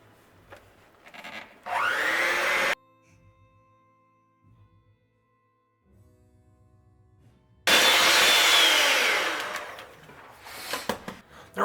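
Electric mixer blending cookie dough of eggs, salt and baking soda, in two loud whirring bursts of a few seconds each, separated by a quiet pause with faint clatter.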